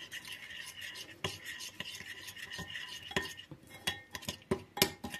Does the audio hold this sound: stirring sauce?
yes